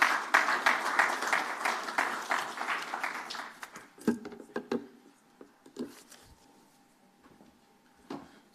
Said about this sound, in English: Another warm round of applause for Chris for that very informative presentation